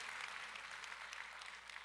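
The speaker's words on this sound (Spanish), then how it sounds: "A Él ese aplauso fuerte en el nombre de Jesús." A church congregation applauds loudly during a sermon, with steady, dense clapping filling the whole moment from start to finish.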